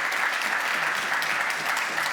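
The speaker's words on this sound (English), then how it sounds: "How about a round of applause for Sabrina," An audience applauds a panel at a discussion event on Europe's economy, a dense, steady clapping that fills the whole moment without voices.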